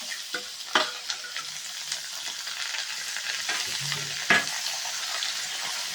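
Bottle gourd with dried red chillies frying in a pan for chutney: a steady, close sizzle with a few sharp stirring scrapes and clinks, no voices.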